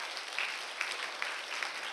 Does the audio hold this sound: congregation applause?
yes